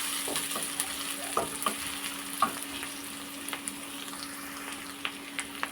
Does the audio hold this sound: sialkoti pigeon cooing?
no